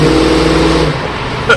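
Classic 1966 Ford Mustang hardtop with the 289 V8 rumbling loudly up close, a deep steady idle-rev that drops off partway through, with no voice over it.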